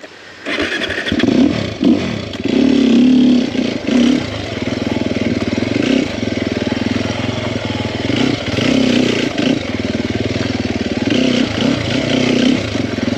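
A 2021 Sherco 300SEF four-stroke dirt bike engine starts up and runs loud and close, a steady rough throb with small revving swells and mechanical clatter throughout.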